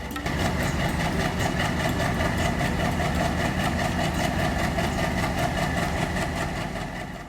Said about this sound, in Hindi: और ये जो आप ट्रेन देख रहे हो ना, ये है एर्नाकुलम टाटानगर एक्सप्रेस